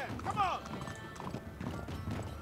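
Horse hooves clopping in the video game Uncharted 3, a rhythmic galloping under a brief whinny, with a player talking over the action at moderate level.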